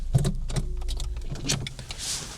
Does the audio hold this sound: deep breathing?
no